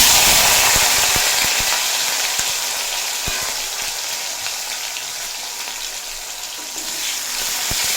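Tomato added to a dry red chilli tempering fries in a pan for a brinjal dish, a loud dense sizzle that eases slightly over time, punctuated by scattered stirring taps.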